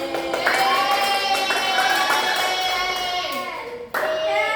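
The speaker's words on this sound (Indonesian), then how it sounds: "Ayo tepuk tangan untuk Gaby." Students in a classroom clap for a classmate during a microteaching lesson, a light patter of hands largely covered by children's and a teacher's voices talking over it.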